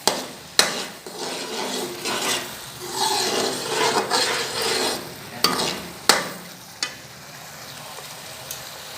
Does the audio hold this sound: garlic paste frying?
yes